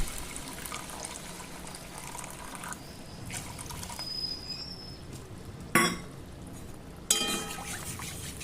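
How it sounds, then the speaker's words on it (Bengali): Water is poured into a Hilsa fish curry cooking in a pan, a faint, steady trickle with two sharp clinks of utensils near the end. "এবার দিয়ে দেবো পরিমাণ মতো জল"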